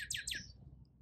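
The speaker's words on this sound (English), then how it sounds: "a cardinal calling, if you're curious what bird makes that sound." Northern cardinal calling near a hammock outdoors, two quick bright downslurred chirps close together, fairly faint against a quiet background.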